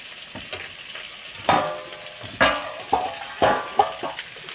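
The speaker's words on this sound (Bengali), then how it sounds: "আলু ভাজা করছি" Potatoes fry in a pan with a steady crackling sizzle, broken by several louder scraping stirs spaced about a second apart; no one speaks.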